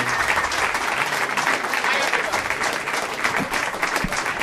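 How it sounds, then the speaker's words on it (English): Steady audience applause fills a comedy podcast room, dense clapping from a crowd throughout, with a few cheers mixed in. "big round of applause for Eddie Pepitone"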